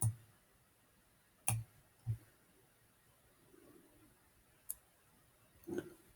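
A computer mouse clicks while selecting cells in an Excel 2016 spreadsheet: about half a dozen sharp, faint clicks spaced irregularly over quiet room tone.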